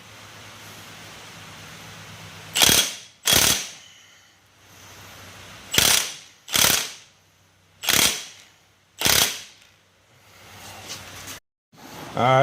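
Hammer blows on a ball joint press while driving a U-joint out of a Dodge Ram 2500/3500 Cummins front axle shaft: six or seven sharp, loud metallic cracks in pairs, spaced about a second apart, with quiet gaps between.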